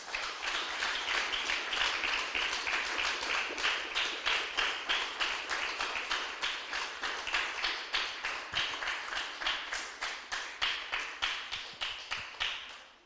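A church congregation claps steadily in sustained applause for about thirteen seconds, dense and even at first, then breaking into rhythmic waves of clapping toward the end, with no speech over it.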